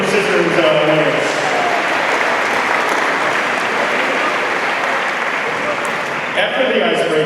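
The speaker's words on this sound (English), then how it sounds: "All right, a big round of applause for our rock, paper, scissors winners." An audience at a freshmen orientation closing ceremony bursts into sustained applause for rock paper scissors winners, a dense wash of clapping that holds steady for several seconds, with a voice heard near the end.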